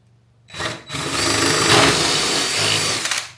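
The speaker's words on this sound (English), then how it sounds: "we got all the holes drilled out, so now it's a matter of just installing the rest of the T-nuts" A power drill bores holes for T-nuts in a Jeep seat-delete platform, starting with a short burst, a brief pause, then a steady loud whine held for a few seconds before it cuts off.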